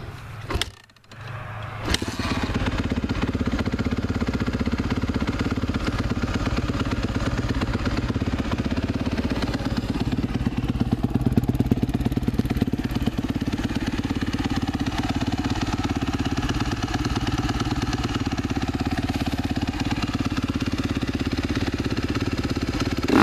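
A 2016 Suzuki RMZ 250 dirt bike engine idling steadily after a cold start, a continuous close, loud mid-pitched drone with a faint whine, alone for over twenty seconds after a brief start-up burst.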